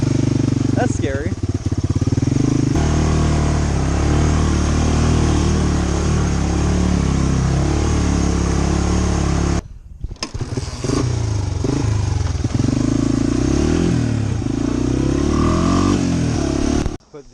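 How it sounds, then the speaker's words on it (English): Honda TRX250 Fourtrax ATV fitted with 30-inch Zilla rear tires, its engine running loud and steady with revving and clatter during water testing, briefly cutting out midway, with voices talking over it. "Put the 30-inch Zillas on the back of the trx250."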